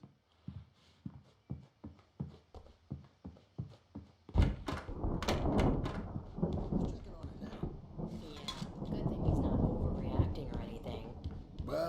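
A thunderstorm in the video game Alan Wake: a run of soft rhythmic thuds gives way to a sudden, loud, sustained rumble and roar of storm noise, with voices speaking faintly underneath.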